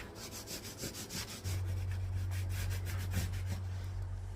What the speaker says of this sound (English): So use your Q-tips or cotton buds if you need to just get a little bit of a clean out.